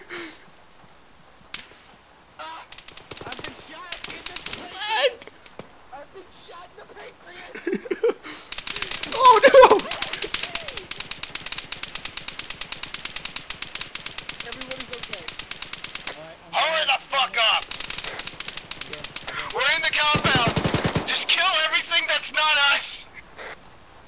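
Sustained machine gun fire in Arma 3 rattles in long, rapid bursts broken by short gaps, loud and close, while players talk over the shooting.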